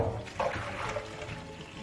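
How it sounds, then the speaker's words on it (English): Water drained from a cooking pot after boiling French beans, a continuous pouring and splashing flow, moderately loud and close, with a brief stronger gush near the start. "So then we're going to go ahead and drain."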